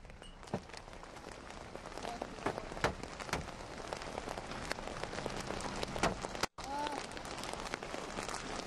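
Hail pelts a vehicle during a severe storm, a dense, continuous rattle of hard impacts with frequent louder cracks. Near and steady, with one brief dropout.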